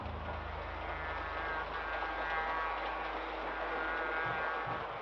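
Steady low rumble and rolling hum of a moving train carriage heard from inside, continuous and even throughout with faint rattling, no voices.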